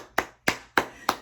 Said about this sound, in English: I'm gonna clap for you.